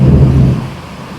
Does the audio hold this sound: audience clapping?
no